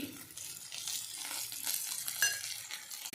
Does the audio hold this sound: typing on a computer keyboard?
no